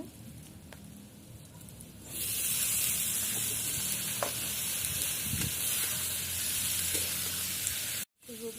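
Potatoes hit a pan of dried fish cooked down with spices, and a loud, bright, steady sizzle swells up close and continues evenly, with a brief cut near the end.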